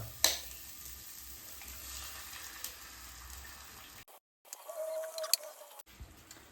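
A soft, steady sizzle of two eggs frying with onion in a pan for a masala omelette, with a sharp clink early on and a brief break in the sound partway through.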